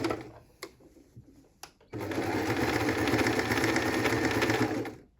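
A sewing machine stitches a skirt waistband with elastic, starting with a few faint clicks, then running in one loud, continuous, steady burst for about three seconds before stopping.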